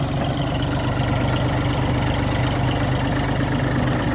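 A Dongfeng 244 Lux tractor engine runs steadily at idle throughout, a loud, continuous low diesel rumble with a regular throb and no talking.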